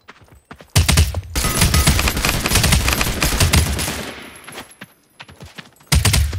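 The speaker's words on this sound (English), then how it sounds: "Under fire." Rapid automatic gunfire in the Realm Royale video game on Xbox One, a loud sustained burst of several seconds that tapers off, followed by a few scattered shots and a final sharp burst.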